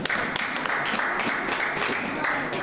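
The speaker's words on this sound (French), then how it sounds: "Acclamons pour la parole de Dieu." A church congregation applauds the word of God, dense sustained clapping close and loud throughout, with voices mixed in.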